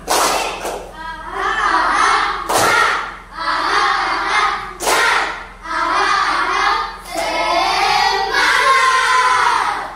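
A group performs a rhythmic tepuk semangat clapping routine in a class session, loud sharp group claps punctuating bursts of chanted voices in a regular pattern.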